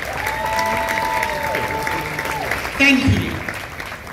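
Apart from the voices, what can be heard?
audience applause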